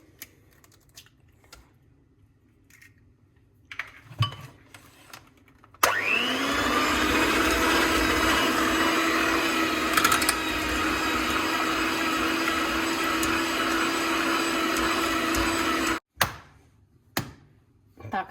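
An electric mixer beats eggs into choux pastry dough for eclairs, its steady motor whine running loud and unbroken for about ten seconds, with scattered light clicks and knocks before and after.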